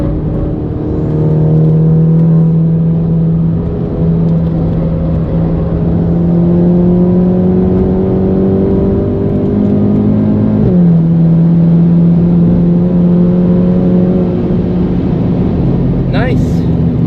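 Stock-suspension 520hp Cupra Ateca accelerating on the Nürburgring, a steady loud engine drone from the cabin rising in pitch through the gears with a shift near the middle, under continuous talk.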